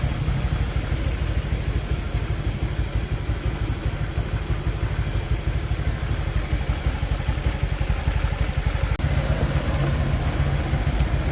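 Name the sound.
motorcycle engine idling after overhaul, oil spraying from bolt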